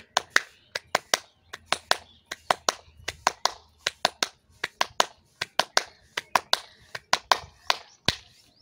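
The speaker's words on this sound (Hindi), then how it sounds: "आप इस तरह से तालियां बनाएं" Sharp, close hand claps during a yoga exercise, struck in quick pairs and short bursts with brief pauses between groups, dry and distinct against a quiet room.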